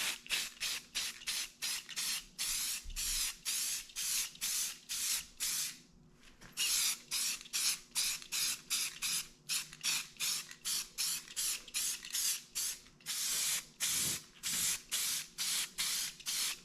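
Aerosol can spraying black paint onto a snowmobile windshield in a long series of short, rhythmic hissing bursts with a couple of brief pauses, close and fairly loud.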